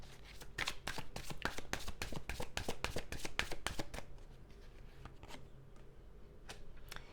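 Tarot cards are shuffled by hand in a quick riffling run of sharp, crisp slaps that are loud and close for about four seconds, then thin out to a few scattered flicks.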